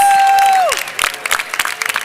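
Audience at a closing session in Orlando, Florida, breaking into scattered applause and cheers after a sustained whistle-like tone drops away, with irregular claps of moderate loudness.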